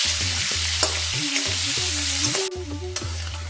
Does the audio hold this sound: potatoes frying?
yes